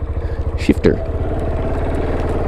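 A 2014 KTM Duke 690 single-cylinder motorcycle idles with a close, loud, rhythmic low thumping, while a person speaks briefly over it near the start.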